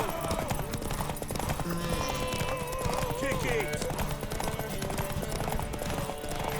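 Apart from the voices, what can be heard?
horse hooves galloping in video game The Witcher 3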